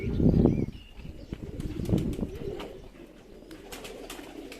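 Young Perdeli pigeons make soft coos and rustling, with a couple of louder low bursts like wing flutters near the start and middle, close by and without speech.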